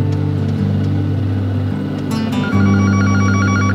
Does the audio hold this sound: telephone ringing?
yes